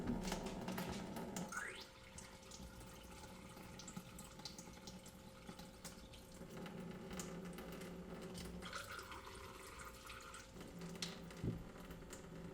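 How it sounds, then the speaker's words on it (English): Water pours from a tap into a container to flush out leftover soda, a steady running stream with some gurgling changes in pitch as it fills, close by and continuous. "we'll pour water into the container until it flushes out all of the soda that's in there"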